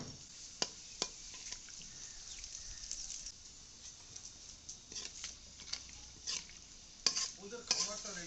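Whole spices hit hot fish oil in a wok, giving a low, crackling sizzle punctuated by sharp metallic taps and clatter of a spoon against the pan, with bursts of louder spattering near the end.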